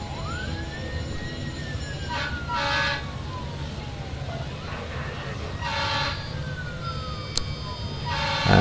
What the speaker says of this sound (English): all I can hear is the sirens of ambulances and things.